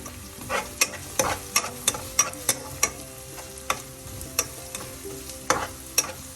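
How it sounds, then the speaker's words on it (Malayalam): Small onions sizzling in hot oil with turmeric while a spoon stirs and scrapes the pan, sharp clicks recurring every half second or so over a steady fry, close and fairly quiet with no talk. "ചെറിയ ഉള്ളിയും കൂടെ ചേർത്ത് വഴറ്റാം."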